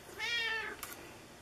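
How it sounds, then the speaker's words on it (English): A pet cat gives a single faint, rising-and-falling meow somewhere in the background of an indoor card-crafting session, followed by a brief soft click. "Don't mind the kitty in the background. She apparently wants to craft with us too."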